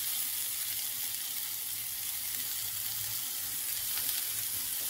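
Potatoes go into a pan of onions and spices, setting off a dense, even frying sizzle that stays steady and close for a few seconds, with no voices.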